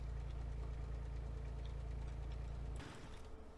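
Tractor engine idling in Farming Simulator 19, a steady low rumble with a rapid knocking pulse that cuts out near the end, leaving quieter mechanical sounds.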